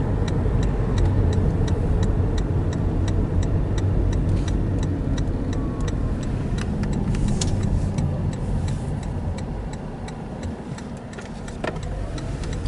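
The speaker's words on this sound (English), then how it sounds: "we have the AC on. So if you hear any kind of noise, it's the AC." Steady broadband hum of a car's air conditioning blowing at full strength during a hot 90-degree drive, mixed with road and engine rumble and faint ticking, continuous and close throughout.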